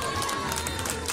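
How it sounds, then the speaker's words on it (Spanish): A crowd applauds at a 2012 inter-agency tournament in San Isidro Laguas, Oaxaca, as a festival committee member arrives, making a steady, dense wash of clapping and crowd noise that fills the whole moment. "regáleme fuerte el aplauso"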